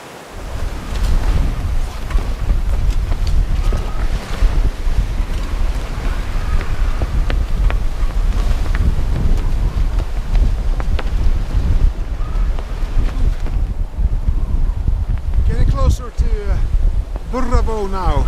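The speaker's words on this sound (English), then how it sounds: "I was through the sound and into the open ocean again, and the wind and waves came back" Strong wind and ocean waves at sea aboard a sailboat heading toward Burravoe in Shetland, a steady loud roar of wind buffeting the microphone with water rushing and splashing throughout.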